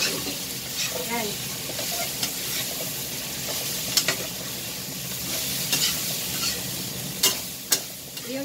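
Vegetable fried rice is stir-fried in a hot pan with a constant loud sizzle and hiss, and a utensil clinks and scrapes now and then close by.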